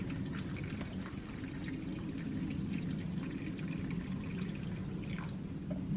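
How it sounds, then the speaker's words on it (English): Hot water from a Nesco electric roaster pours steadily into a pot of pozole, a continuous close splashing and gurgling flow that lasts the whole stretch, with no talking. "I'm gonna pour water until it covers it completely"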